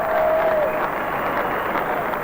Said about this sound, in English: Huge applause here at Jade Stadium.